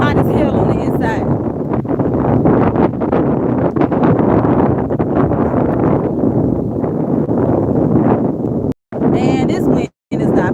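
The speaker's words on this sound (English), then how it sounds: "Man, this wind is not playing." Strong wind buffets the microphone on an outdoor morning walk, a loud continuous roar with brief dropouts near the end, and speech can be heard through it.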